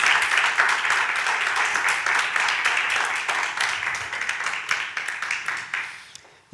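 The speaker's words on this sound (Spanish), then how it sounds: "Denle un aplauso a Dios por su palabra, por favor, déselo fuerte al Rey de Reyes." A church congregation claps together in sustained, dense applause that gradually thins and fades toward the end.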